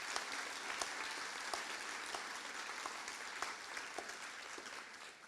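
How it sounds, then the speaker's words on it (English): Sustained applause from a graduation ceremony audience at Bury College, a steady dense clatter of many hands with occasional sharper claps, moderately distant and continuous throughout. "Another round of applause for Mike,"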